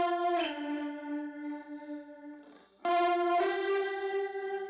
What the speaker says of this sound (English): you can hear I got my Walrus Julia cranking out some weird vibrato-y